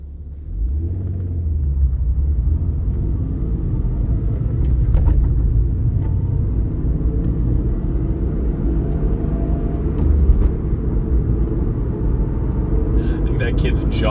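Toyota Supra driving through city streets, a low steady engine and road rumble heard from inside the car, with someone talking over it throughout.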